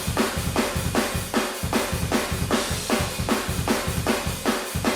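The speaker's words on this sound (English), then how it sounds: "So all the tom rooms together sound like this." Room reverb tracks from the toms of a pop punk drum mix, played together as a loud, steady beat of roomy, washy hits with ambient decay running under each strike, no voices.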